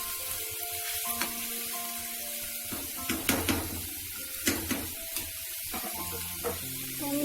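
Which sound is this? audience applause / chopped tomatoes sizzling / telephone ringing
chopped tomatoes sizzling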